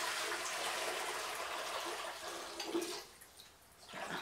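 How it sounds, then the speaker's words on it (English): Cold water pours into a bowl already holding hot alum water, ready for dyeing a second-hand cashmere jumper. It is a steady, fairly close rushing splash with no voices, thinning out and then picking up again at the end. "And then I'm going to pour in some cold water."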